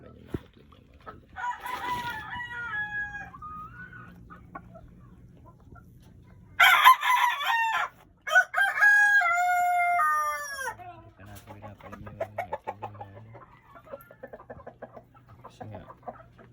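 A rooster crows loudly several times near the microphone among clucking chickens, with drawn-out cock-a-doodle-doo calls and softer clucks in between.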